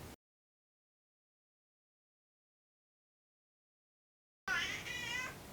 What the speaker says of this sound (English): my cat has woken up, so if you hear some meowing